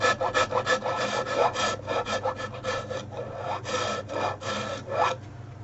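A microplane rasp scrapes the rim of a wooden platter in quick repeated strokes, each a bright rough rasp, some faster and some slower, close to the microphone with no talking.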